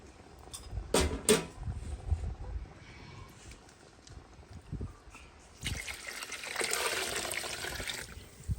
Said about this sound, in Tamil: நாலரை வளக்கு அரிசிக்கு ஒம்பது வளக்கு தண்ணி ஊற்றுவோம்